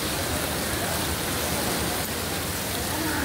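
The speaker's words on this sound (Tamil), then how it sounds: "சரியான புயல் மழையாக இருக்கிறது." Heavy storm rain pours down steadily at Murdeshwar temple in Karnataka, a dense, loud, unbroken hiss with no letup.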